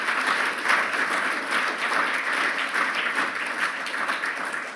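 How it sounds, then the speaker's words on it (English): Steady, dense applause from a conference audience at the Royal Society fills the whole stretch, loud and even, with no one speaking over it. "let's give them a round of applause for organising this conference"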